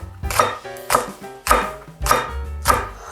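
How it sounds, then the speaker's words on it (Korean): Knife slicing Cheongyang chili peppers on a board, five evenly spaced, crisp chops landing close and clear with no talking. "자, 청양고추 3개만 썰어주세요."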